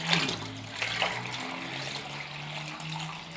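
Water pours and splashes steadily into a planted aquarium tank, a soft continuous trickle with a low hum underneath and no speech.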